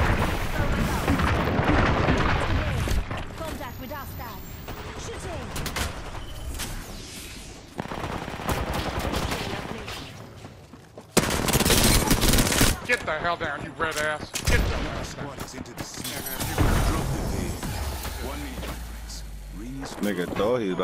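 Repeated bursts of automatic gunfire in an Apex Legends match come close and loud, broken by short pauses, while players talk over the shooting.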